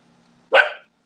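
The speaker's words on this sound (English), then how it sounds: "I'm sorry, that's my dog." A single short dog bark bursts in loud and close after a faint low hum, then trails off quickly.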